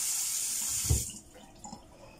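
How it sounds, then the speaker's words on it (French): Cold tap water streams steadily into a kitchen sink while something is rinsed under it for homemade couscous. The flow holds even at first, then a splash and a drop in level follow as the water is shifted or cut, with faint clatter after. "À l'eau froide, vous voyez bien comment je le rince bien."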